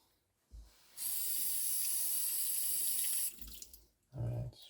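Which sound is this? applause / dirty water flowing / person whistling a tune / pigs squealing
dirty water flowing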